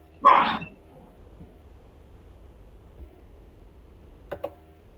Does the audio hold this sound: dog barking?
yes